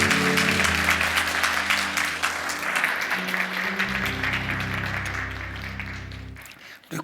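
Church congregation applauding during a service, a steady patter of many hands that slowly thins and fades. Sustained organ or keyboard tones play underneath.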